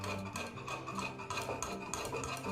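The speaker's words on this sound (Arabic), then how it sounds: "وغادي نحرك" Chicken and kefta stirred with cheese triangles melting into them, a utensil scraping and rubbing steadily in a pan, continuous and fairly close with a busy, textured rasp.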